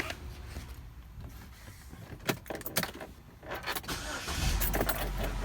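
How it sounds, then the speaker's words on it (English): A car engine cranks and starts after a VVT solenoid replacement, preceded by keys jangling and a door, with a short burst of starter noise before a steady low idle builds. "So I'm gonna turn on the vehicle"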